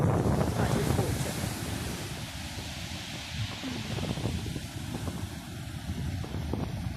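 Open water churns in waves under a west wind, a steady broad roar of surf with buffeting wind noise across the microphone throughout.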